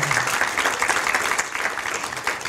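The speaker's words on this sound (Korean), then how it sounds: "박수 한번 주세요." Studio audience applause on a Korean talk show, a steady dense wash of many hands clapping close up, sustained and even throughout.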